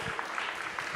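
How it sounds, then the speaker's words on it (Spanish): A church congregation claps in thanks during a sermon, a brief, even wash of applause at moderate volume. "¿Cuántos damos un aplauso al Eterno?"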